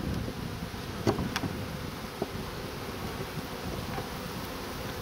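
Honeybees hum steadily at a hive, a low, continuous buzz close by with a few brief louder passes, under light wind noise on the microphone.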